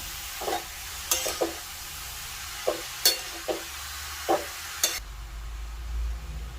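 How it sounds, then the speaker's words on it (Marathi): Grated carrots frying in ghee for carrot halwa sizzle steadily under repeated scrapes and knocks of a spoon stirring the pan, about ten strokes in an uneven rhythm. "आता हा गाजर आहे तो आपण तुपावरती छान प्रकारे परतून घेणार आहोत"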